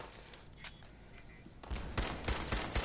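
Pipe pistol gunfire in Fallout 4, a quick burst of sharp, loud shots in the second half that follows a quieter stretch of game ambience.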